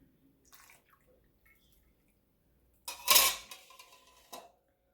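Homemade apple cider draining through cheesecloth, a brief splashing pour of liquid that swells and then trickles off, close and fairly loud, preceded by quiet handling.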